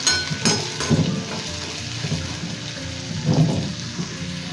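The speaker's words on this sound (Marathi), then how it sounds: "तेलामध्ये फ्राय करून घ्यायचं। 2-3 मिनटं लागतील सोनेरी होईपर्यंत।" Sabudana frying in hot oil until golden, a continuous close sizzle with occasional stirring clatters, no talk.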